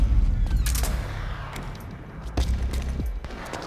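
Gunfire in Metal Gear Solid 4 comes as a few scattered loud bursts and single shots over rumbling battle noise, with gaps between the volleys.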